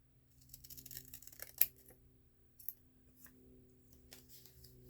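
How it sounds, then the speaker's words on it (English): Hair thinning shears cutting receipt paper, giving a few faint close snips and crisp clicks spaced apart over a quiet background. "Got my old hair thinning shears."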